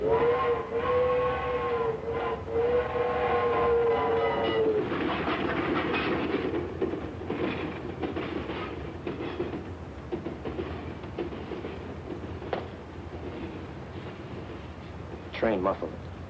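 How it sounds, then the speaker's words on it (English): Muffled train rolling past with rhythmic clickety-clack and a whistle-like tonal wail early on, steady and moderately loud throughout, with a brief higher squeal near the end. "Train muffled."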